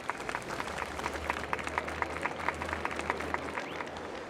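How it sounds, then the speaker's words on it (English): A festival crowd claps in the Honkai Star Rail video game, a steady patter of applause from many hands under a low ambient hum. "we invite you to express your warmest applause and deepest appreciation for OT Alpha."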